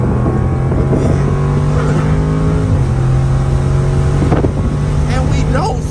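A Dodge Scat Pack or Ford Mustang pulls hard from 0 to 100 mph, its engine a loud, steady drone that drops in pitch at one shift, with wind rush and people talking over it.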